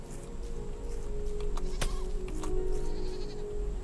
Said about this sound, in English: Sheep's making funny noises behind me.